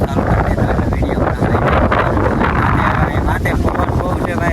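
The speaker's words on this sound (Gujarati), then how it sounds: "અત્યારે કેટલો પવન ચાલુ છે એકદમ." Strong wind blows at the hilltop Bhaguda Mogal Maa temple, a loud, constant roar buffeting the microphone without a break.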